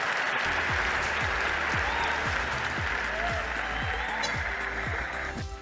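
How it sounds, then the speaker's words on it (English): Applause from a large crowd holds steady and dense for several seconds as a continuous roar of clapping, with faint cheering voices mixed in, tapering slightly at the very end. "Let the crowd cheer for a bit."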